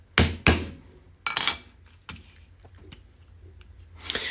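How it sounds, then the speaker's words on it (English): A hammer strikes a rivet set to cut through a copper burr rivet, giving several sharp metallic taps with pauses between them, close and loud in a quiet room. "You've got to hit it enough that it actually cuts through the burr."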